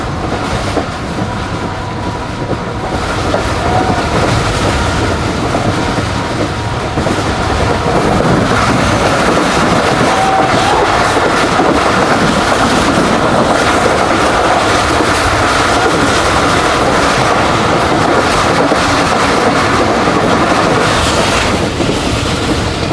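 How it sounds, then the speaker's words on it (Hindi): The 48 Down Rahman Baba Express rushes past as an oncoming train, a loud, continuous rumble and rattle of wheels and carriages that holds steady for a long stretch. "तो ये सामने से एक अदर ट्रेन आ रही है।"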